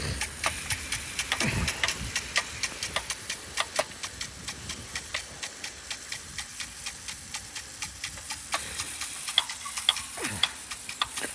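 A Nelson Rain Train 1-inch traveling sprinkler fitted with a 3/4-inch Rainbird 35PJ head runs outdoors, giving a steady rhythmic ticking and spraying hiss with occasional sharper water bursts throughout.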